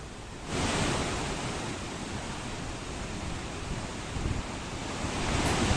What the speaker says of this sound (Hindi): सुन के सरला डैम से पानी छोड़ने का मंजर